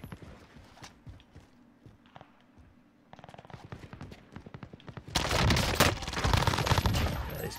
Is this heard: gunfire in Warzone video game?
yes